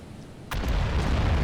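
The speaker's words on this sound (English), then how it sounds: "Firing with turret Y." A battleship's Y turret fires in the Battleship Command naval game: one sharp, loud blast with a heavy low boom that rolls on as a sustained rumble.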